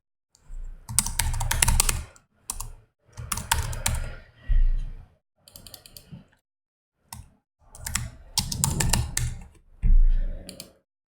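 Close, loud bursts of typing on a computer keyboard, several quick runs of clattering keystrokes separated by short pauses, with no talking.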